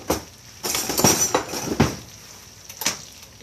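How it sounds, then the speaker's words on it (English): A spoon stirs fresh linguine in a pot, giving scattered light clinks and scrapes against the metal at irregular intervals, fairly close and moderately soft, with no voices. "Let me get a spoon and stir it up."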